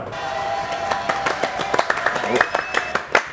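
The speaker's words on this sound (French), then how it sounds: "Applaudissements pour Myriam" A studio audience on a French TV program applauds for a guest, with a dense patter of claps over tonal background sound that grows busier and more accented toward the end.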